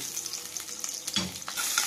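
Onion, crushed ginger and garlic fry in a generous amount of oil, a brief close hiss and crackle broken by a couple of stirring scrapes.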